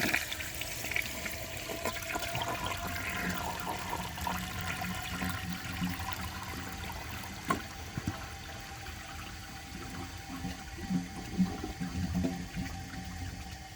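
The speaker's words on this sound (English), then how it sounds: "I'm going to give it another flush and see if for some reason it decides to pass" A 1984 Eljer Murray toilet flushes in a steady, rushing wash of water that runs throughout with a few splashy surges, heard close and without any talk.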